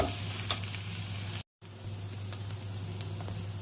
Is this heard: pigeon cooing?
no